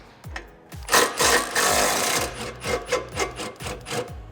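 A 15 mm bolt holding the factory shock on a 2005-2014 Ford Mustang is loosened with a ratchet, giving a rapid series of close, sharp clicking pulls in uneven bursts with a steadier stretch of rasping in the middle.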